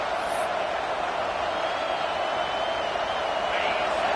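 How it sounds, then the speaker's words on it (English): A steady, loud crowd roar fills a college football stadium during a UNLV versus NC State game, a dense wash of noise that holds unbroken throughout without distinct cheers standing out. "This crowd trying to make life miserable for this offense."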